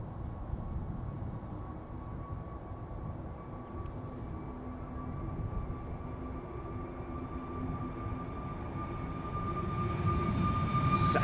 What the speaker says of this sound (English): SAS flight 556 lining up, spooling up, going to Stockholm, A320neo